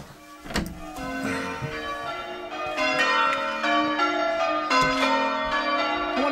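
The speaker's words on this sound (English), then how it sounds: "You can hear the church bells out here" Church bells ringing outdoors, a series of bright, resonant strikes overlapping into a sustained ringing that grows slightly louder, heard from a distance with no talking.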